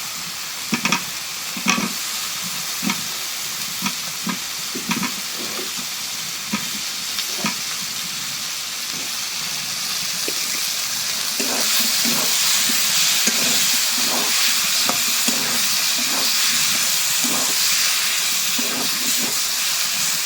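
Potatoes fry with spices in a pan, a constant close sizzle and hiss punctuated by repeated stirring knocks and scrapes, growing slightly louder in the second half.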